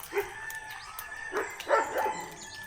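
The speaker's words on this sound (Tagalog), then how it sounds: "May aso pala dito." A dog barks several times in quick yips and woofs at moderate distance, the barks clustered toward the middle and end, with a faint background hum and no talking.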